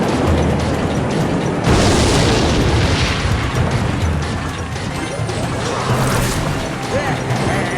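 Rocket spell explosion in the Clash Royale mobile game: dense, loud booming and crashing battle effects run continuously under game noise, with talk mixed in.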